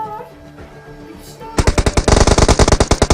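Gunfire in the PUBG Mobile game on the Livik map: after a quieter lead-in, a loud, rapid automatic burst of evenly spaced shots runs steadily to the end.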